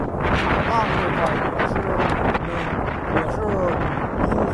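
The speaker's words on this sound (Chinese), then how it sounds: "看这个，风呼呼的，风呼呼的" Strong wind buffets the microphone at a seaside square in Longlou, Wenchang, Hainan, a loud, continuous roar with waves behind it and a voice speaking over it.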